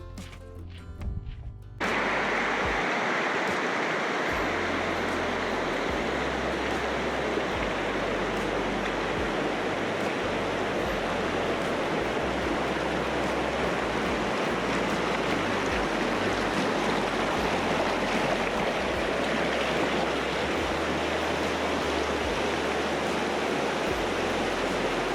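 A creek running full with spring runoff rushes in a loud, continuous, broadband roar, steady and close, beginning after a brief quieter moment with no talk over it.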